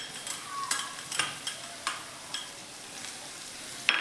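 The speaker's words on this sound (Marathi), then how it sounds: "ह्याच्यातील लसणाचा कच्चापणा जाण्यासाठी आपण व्यवस्थित परतायचे" Green garlic paste being sautéed for a horse gram curry, stirred in a pan with a soft, steady sizzle and several light scraping strokes, one sharper clink near the end, no talking.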